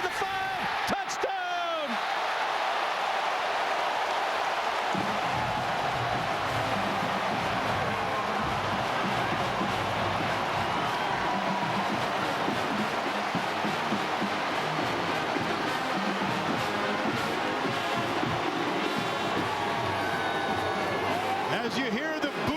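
A stadium crowd roars loudly and continuously after an Ohio State touchdown against Iowa in 2009, a dense, sustained wall of cheering that swells at the start and carries with talk layered over it.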